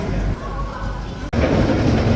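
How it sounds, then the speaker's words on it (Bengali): A train pulls out of Guntur railway station, its rolling rumble steady and fairly loud from inside the carriage, broken by one sharp click or jolt midway before the noise swells again. "ট্রেন গুন্টুর রেলওয়ে স্টেশন থেকে ছেড়ে দিয়েছে"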